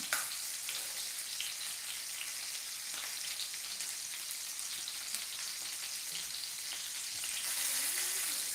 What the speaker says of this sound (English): if you're frying chicken in oil